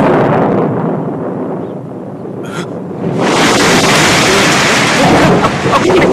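Heavy rain roars steadily, briefly thins, then surges back louder with a deep rumble of thunder beneath it, a dense, close downpour with no talking.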